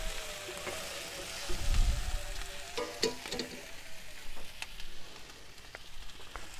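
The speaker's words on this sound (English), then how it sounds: "So I'm just going to fry them veggies off a bit." Vegetables frying in a pan on a camp stove outdoors, a soft crackling sizzle with a few sharper pops and a brief stir around the middle, moderately close and without talk.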